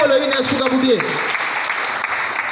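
A church congregation at a Sunday service claps in sustained applause and cheering, layered with voices and singing-like tones near the start, continuing steadily throughout.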